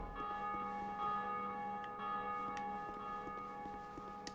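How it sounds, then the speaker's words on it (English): A deep, resonant bell rings in the Dark Souls 2 video game, its long sustained tones holding steady at a moderate level with faint clanks over them, and no voices. "that's where we ring the bell. So I'm going to do that."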